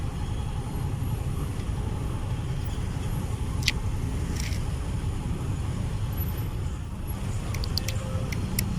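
Heavy traffic crawls along EDSA near Santolan and Ortigas, a constant low rumble of car and bus engines close by, with occasional faint horn-like chirps and a voice speaking in the background.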